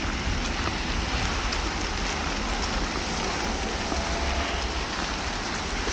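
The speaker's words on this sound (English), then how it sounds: "It's really just hail." Hail falls on a Harlem street in the early morning, a steady, dense patter of small ice pellets striking pavement and surfaces, even and continuous with no voices.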